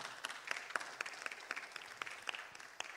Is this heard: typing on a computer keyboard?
no